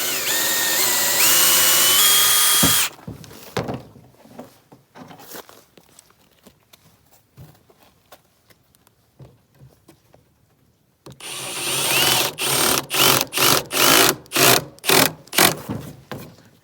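Power drill pre-drilling screw holes in wood for a DIY bird feeder: a long steady whine at the start, a stretch of faint handling and tapping, then a series of loud, rhythmic bursts close by.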